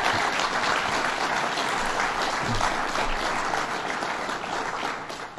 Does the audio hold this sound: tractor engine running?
no